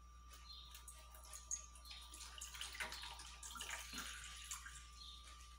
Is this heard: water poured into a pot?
yes